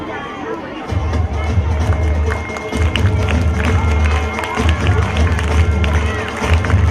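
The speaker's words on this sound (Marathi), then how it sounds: "जोरदार टाळ्या वाजल्या पाहिजे" An audience at a felicitation ceremony during an inauguration function applauds and cheers, a dense, loud crowd roar of clapping and babble starting about a second in and holding steady to the end.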